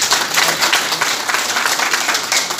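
Audience applause at the annual general meeting of a Kuwait-based expatriate welfare association, a dense, steady clatter of many hands clapping close by for the full stretch.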